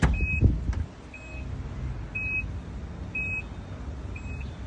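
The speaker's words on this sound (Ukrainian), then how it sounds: "Електропривод багажника також є в цій комплектації." Electric power tailgate on a 2013 Infiniti JX35 4WD running: a steady motor whir with a series of short, evenly spaced warning beeps repeating about once a second, close by with no talk.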